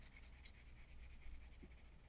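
A cheap pencil scratching on paper while drawing a face, a continuous gritty rasp with rhythmic stroke pulses, close and steady with no talk.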